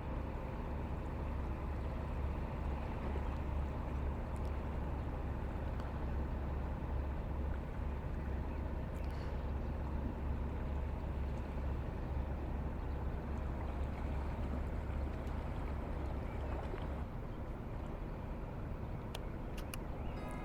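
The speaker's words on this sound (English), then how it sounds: "Boat's gone through the scene." A steady low engine rumble drones throughout, like a motorboat passing on water, constant and fairly close with no voices.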